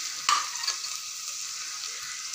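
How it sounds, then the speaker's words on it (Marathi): Onion and garlic frying in hot oil for a restaurant-style veg pulao, a steady bright sizzle with a couple of soft stirring scrapes near the start, close and continuous with no talking. "त्याला देखील तेलावरती थोडे गोल्डन ब्राऊन होईपर्यंत व्यवस्थित भाजून घेऊया।"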